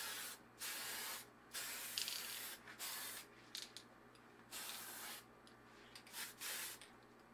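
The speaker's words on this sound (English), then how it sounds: "I went over to my place to paint things and gave everything a good coat of black." Bursts of black spray paint hiss from an aerosol can while painting small puzzle-cube parts, several short sprays of about half a second to a second each, separated by brief pauses, fairly close and steady.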